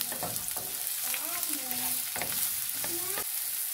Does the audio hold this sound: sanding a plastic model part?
no